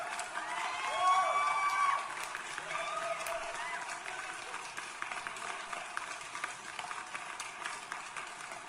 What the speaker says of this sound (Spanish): Y te pongo los aplausos